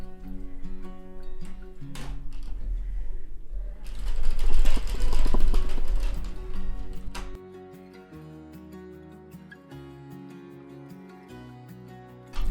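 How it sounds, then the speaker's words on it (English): A hand-cranked circular knitting machine turns with yarn in it, giving a whirring, ticking mechanical clatter that swells louder mid-way, then settles into quieter steady clicks. "Cut the yarn and keep turning till it falls off the machine"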